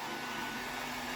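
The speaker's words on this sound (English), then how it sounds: "with the heat gun on low, you just go over it, warm it up," A heat gun on low setting drying paint on the roof of a Land Rover Discovery 2 Td5, a constant close airy blowing hiss with no breaks.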